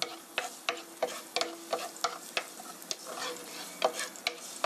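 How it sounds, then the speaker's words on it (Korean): Garlic frying in olive oil in a tilted pan, a soft steady sizzle broken by repeated sharp clicks and scrapes of stirring, close and fairly quiet with no talk. "마늘을 넣어서 이렇게 기울여서 마늘의 향을 내주세요."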